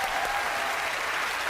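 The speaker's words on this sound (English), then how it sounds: "applause" Audience applause at a live paranormal show event, dense steady clapping from a large crowd filling the whole short stretch at an even level.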